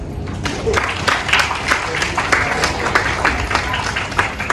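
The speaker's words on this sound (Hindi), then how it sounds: "हम सब अपने लिए तालियां बजाएं।" A crowd applauding steadily at a Women's Day felicitation event, many hands clapping at once in a dense, continuous patter that swells slightly and holds for several seconds.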